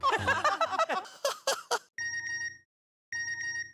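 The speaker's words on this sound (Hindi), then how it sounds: "लगता है एड्रेस का मैसेज भी आ गया।" A phone chimes with a message notification, a bright tonal alert heard twice with a short gap between, following a burst of laughter and chatter in a comedy scene.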